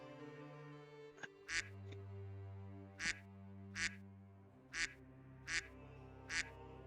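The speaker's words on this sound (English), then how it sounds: "I could hear this like quacking sound as I was moving about" Duck quacking, six short loud quacks spaced about a second apart over a steady low droning tone, close and clear.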